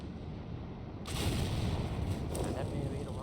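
Tank cannon fire in a video game: a heavy boom sets in about a second in, followed by a sustained, rumbling blast texture that holds loud to the end.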